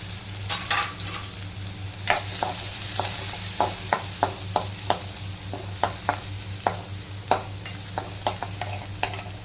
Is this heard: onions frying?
yes